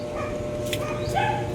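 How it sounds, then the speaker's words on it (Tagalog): A dog barks and whimpers nearby during a motorcycle repair, a few yips and short barks rising above a steady background hum, with no talking. "Ingay ng aso."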